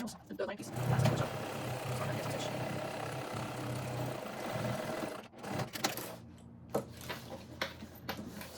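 A sewing machine runs a top stitch along a backpack zipper seam, a steady mid-level hum lasting about five seconds, followed by quieter handling and brief irregular bumps.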